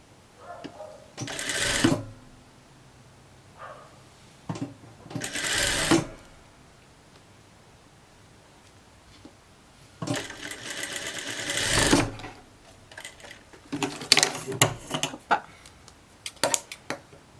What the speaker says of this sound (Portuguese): Eu já venho aqui, já vou pespontar rapidinho aqui.